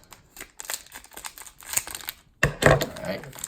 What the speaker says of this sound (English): Scissors make it easier.